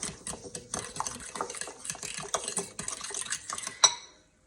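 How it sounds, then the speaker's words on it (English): A spoon stirs sugar into a brioche bun mixture in a bowl, making steady scraping and clinking against the sides for several seconds, with a sharper knock near the end. "I'm going to stir this up."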